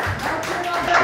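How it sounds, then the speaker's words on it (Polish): A short burst of hand clapping from a small group, close and fairly loud, with a voice talking over it. "Wielkie brawa."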